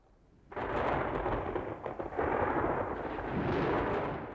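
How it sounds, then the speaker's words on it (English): A loud, sustained crash and rumble of thunder from an animated thunderstorm, bursting in abruptly after a quiet moment and rolling on for several seconds with a second surge partway through. "That night, we had a terrific thunderstorm."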